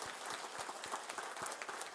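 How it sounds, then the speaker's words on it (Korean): A church congregation breaks into applause, a dense, continuous patter of many hands clapping at moderate distance for a couple of seconds. "우리 박수 한번 합시다"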